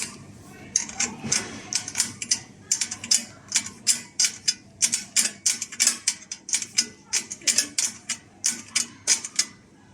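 A 12mm spanner tightens a nut while fitting rivnut rivet nuts, giving a close series of sharp, rapid metallic ratcheting clicks in uneven bursts, with a faint background voice early on.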